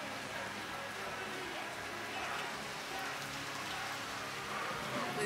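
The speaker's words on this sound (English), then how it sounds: "Currently, if you want to look outside, it's raining." Rain patters steadily in a dense, even hiss during carnival time in St. Thomas, with a voice faintly audible underneath.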